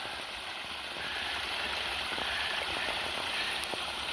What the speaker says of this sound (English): So now the waterfall is flowing the way it's supposed to flow.